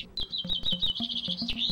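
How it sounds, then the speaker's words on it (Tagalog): Small birds chirp and tweet as a sound effect on a radio program, a quick run of bright, high, overlapping calls at moderate volume with no voices. "Kailan mo huling narinig ang mga huni ng ibon?"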